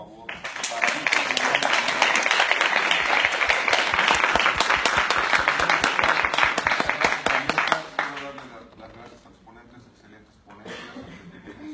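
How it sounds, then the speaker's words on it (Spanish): An audience at a lecture on black metal bursts into loud, sustained applause for about eight seconds with a faint chuckle mixed in, then the clapping dies away into quieter room noise. "Un aplauso, por favor,"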